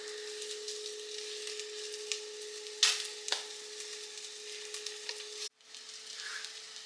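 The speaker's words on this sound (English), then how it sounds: "Okay, so I cook the ginger and garlic and just green chili for like 2 minutes literally." Ginger, garlic and green chili fry in a pan with a soft, steady sizzle, a faint hum underneath and a couple of sharp clinks of a utensil partway through.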